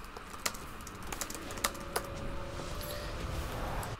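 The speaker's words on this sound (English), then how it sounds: "I'll type it." Chat message typed on a computer keyboard during a League of Legends match, a quiet run of scattered key clicks close to the microphone over faint game background, with no talking.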